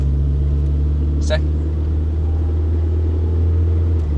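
Rover R8 with a torque converter automatic moving through its gears while driving, a steady low engine and road drone filling the interior, with one brief higher sweep partway through.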